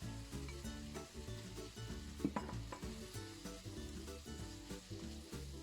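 Shredded pork, bamboo shoots and fungus stir-frying in a hot wok for a Sichuan fish-flavored pork dish, with a continuous sizzle broken by rhythmic scraping and tossing strokes, fairly quiet and with no talking.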